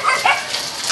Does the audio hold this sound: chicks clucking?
no